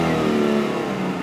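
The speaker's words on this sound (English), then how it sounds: "I said I'd rev it up and see." A 2000 Hyundai Sonata GLS engine revving up, a loud, close, sustained rising drone of a mid-sized car engine with no voices over it.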